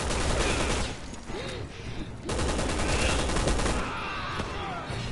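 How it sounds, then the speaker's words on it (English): Gunfire in the video game Resident Evil 6 during Chris's campaign, a loud, dense barrage of rapid shots and blasts running almost unbroken, with game sounds and some talking mixed underneath. "Where are we getting shot from?"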